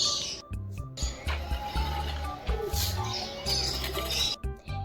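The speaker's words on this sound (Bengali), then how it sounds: "পাখির আওয়াজগুলো তোমরা শুধু শুনবে" Birds calling at Alipore zoo in Kolkata: repeated, overlapping calls in short bursts, loud and close, filling the enclosure over a steady background din.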